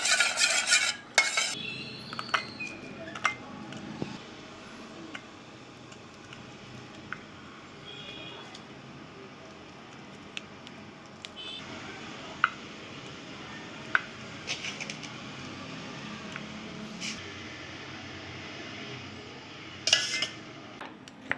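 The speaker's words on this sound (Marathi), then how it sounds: "मित्रांनो, तर हे व्यवस्थित मिक्स करून घेतो आहे मी." A spoon stirs and mixes fruit salad in a nearly empty vessel, producing faint, intermittent clinks and scrapes against the container, quiet and close.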